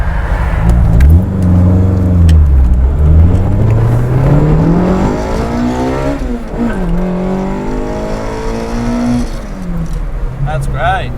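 A fully worked Toyota AE86 with a 4AGE/7AGE engine revs hard on a dyno, the loud engine note climbing and falling through sweeping pitch changes, with rising pulls and a brief drop between them.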